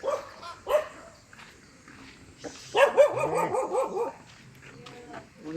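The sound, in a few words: dog barking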